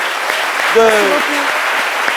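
Studio audience applause on a live French television talk show, a dense, steady burst of clapping heard throughout, with a voice speaking briefly over it.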